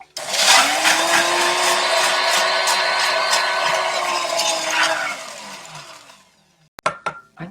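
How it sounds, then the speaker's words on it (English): A spindle blender whirs loudly with ice rattling inside for about five seconds, then winds down, followed by a few sharp clinks and knocks. "as with most of the spindle blender drinks, really short blend, like 5 seconds"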